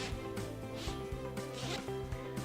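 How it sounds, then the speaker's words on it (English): The zipper on a EuroFit Infinity fabric display graphic is pulled open in a few quick rasping strokes, close by and fairly quiet, with soft fabric rustling between pulls. "So I'm just going to unzip the graphic"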